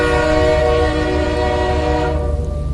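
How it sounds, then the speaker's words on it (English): An approaching train sounds a loud, sustained horn in a radio drama, one steady blast holding for about two seconds before it begins to waver and fade. "The train sounded its horn."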